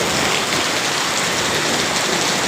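Rain pours down on a hot day, heard from a rooftop as a dense, even hiss of drops that stays loud and constant throughout, with no talking.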